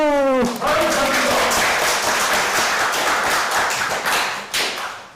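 A short voice calls out, then a church congregation at a Sunday worship service bursts into sustained rhythmic clapping that slowly fades near the end.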